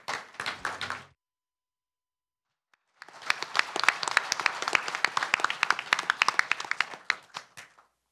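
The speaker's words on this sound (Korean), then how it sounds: "다시 한번 큰 박수를 부탁드리겠습니다." An audience at a 2013 economic forum claps for the speakers: a short burst of applause cuts off into silence, then a fuller, sustained round of crisp clapping follows and tapers at the end.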